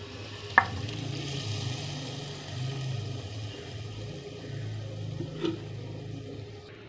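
Tempering (baghar) of dry coriander and cumin for kadhi pakora, a soft steady sizzle in hot oil with a couple of sharp clinks from a spoon against the pan.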